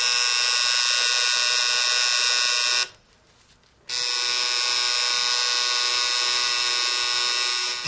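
A tattoo machine buzzes steadily and loud while shading ink into skin, cutting out for about a second before resuming the same continuous electric drone.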